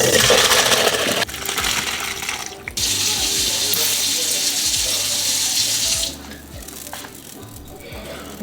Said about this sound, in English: Now we're gonna add some heavy cream.